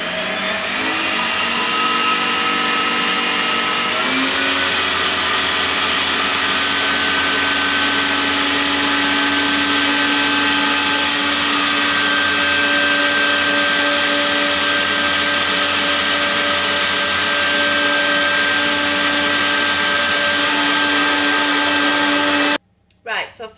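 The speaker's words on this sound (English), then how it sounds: "And then I'm going to whisk that round." A salted caramel meringue mixture is whisked with a steady, loud mechanical whirr that runs unbroken for over twenty seconds, then cuts off abruptly near the end.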